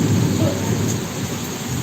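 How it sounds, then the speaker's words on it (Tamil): Heavy rain pours steadily over Tiruvottiyur in Chennai with a deep rumble of thunder rolling underneath, loud, dense and continuous throughout. "சரியான மழை பெய்யுது பாருங்கள்"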